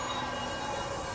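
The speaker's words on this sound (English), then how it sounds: "Amidst the panic, the train exits the tunnel." Train rumbling out of a tunnel in the video game Love and Deepspace, a steady broadband roar with a high metallic squeal of wheels on rails, loud and continuous with no voices.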